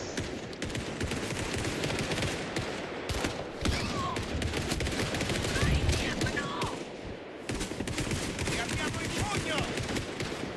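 Sustained automatic gunfire and bursts of shots fill a hotel shootout in Indiana Jones and the Great Circle, loud and continuous, with voices shouting and talking underneath.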